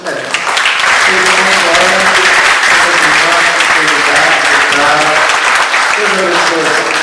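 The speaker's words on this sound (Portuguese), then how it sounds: "Irmãos, uma salva de palmas para elas que elas merecem" A church congregation applauds a choir, steady close clapping throughout with voices and singing running underneath the applause.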